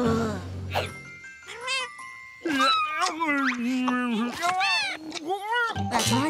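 Cartoon kittens meowing, several high, wavering mews overlapping one another in quick succession, with animated voices and bright jingling tones mixed in.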